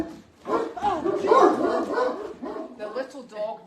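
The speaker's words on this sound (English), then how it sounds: "The little dog next door's outside barking" A small dog barks outside next door, a few yaps and whimpers mixed in beneath close conversation that runs through most of the moment.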